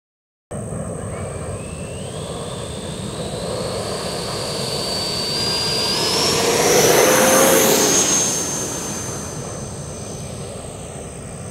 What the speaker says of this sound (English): That was our maiden takeoff.